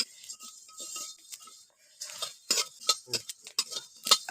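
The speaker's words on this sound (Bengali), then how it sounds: "এই উপকরণগুলো আমি একটু ভালো করে ভেজে নিচ্ছি।" Whole coriander, cumin, fenugreek and black pepper dry-roast in a pan as a spoon stirs them, making sparse clicks and light rattling scrapes that grow busier and louder toward the end, with no talking.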